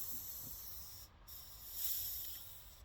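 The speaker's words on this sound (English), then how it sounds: "let the pressure out of the tank" Pressure released from a generator fuel tank, a continuous breathy hiss that runs steadily and swells slightly midway, fairly faint and close, with no voices.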